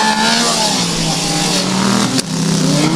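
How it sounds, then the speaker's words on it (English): Formula Student race cars circulate together on a track during an endurance event, one engine droning at high revs with pitch dipping and rising through gear changes, loud and close, a second car audible alongside. "These are actually two of my favorite sounding cars here on track together."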